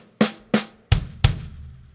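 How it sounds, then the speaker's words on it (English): A drum fill on a kit: two sharp accented strikes on the high tom, then two deeper, heavier hits that sound like snare strokes landing with kick drum underneath. The hits are evenly spaced, close and loud, with no talk. "in our first group of 8, we're going to play the first note on the high tom and just leave the rest of the single strokes on the snare"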